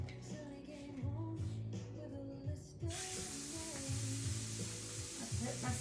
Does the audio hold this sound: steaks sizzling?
yes